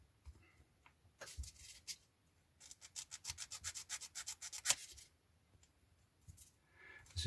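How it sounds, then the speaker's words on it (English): A sanding sponge rubbed over a curved plastic part of a 1/48 scale model aircraft kit, quiet scratchy strokes: a couple of isolated rubs, then a fast rhythmic run of back-and-forth passes, close up. "This is where the sanding sponges come into their own"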